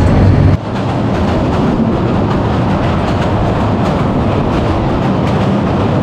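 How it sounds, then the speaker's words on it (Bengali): Steady rumble of the Tista Express passenger train moving after leaving Jamalpur railway station, Bangladesh, loud and continuous, with rattling wheels and carriage noise throughout; no talking. "ট্রেনটা কিন্তু ছেড়ে দিয়েছে জামালপুর রেলওয়ে স্টেশন থেকে"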